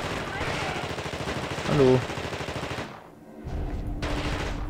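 Gunfire in the video game Das Ding aus einer anderen Welt, dense rapid shots forming a sustained burst that cuts out briefly and resumes, with someone talking over it.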